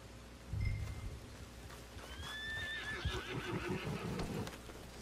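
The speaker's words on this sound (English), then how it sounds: "so you spawn in, call for your horse" A horse neighs in Red Dead Redemption 2 Online, a rising whinny in the middle of the clip, followed by clip-clopping hooves. A low thud sounds early on, and everything plays quietly over faint ambient rain.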